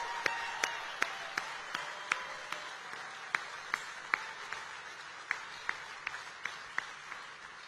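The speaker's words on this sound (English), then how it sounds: "Let's give Sarah a round of applause." Crowd applause at a campaign rally for a Republican vice presidential candidate in Glendale, Arizona: steady sustained clapping from a large audience, with sharp individual claps standing out at a fairly regular pace throughout.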